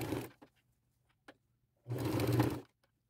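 A sewing machine stitches the hem of a nightgown in two short runs, one brief burst at the start and a louder, steadier run later, with quiet gaps and small clicks between them.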